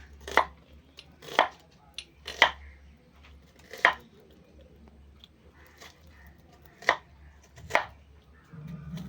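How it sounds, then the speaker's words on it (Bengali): An onion is chopped with a knife in a home kitchen, about seven sharp separate chops at an uneven pace, close and clear over a quiet low hum. "বুঝতাম, পেঁয়াজ কাটা হচ্ছে।"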